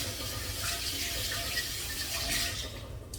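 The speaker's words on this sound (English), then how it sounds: "I think I'm going to rinse these potatoes again anyway" Running tap water pours steadily into a sink while potatoes are rinsed under it, a continuous close splashing wash with no speech.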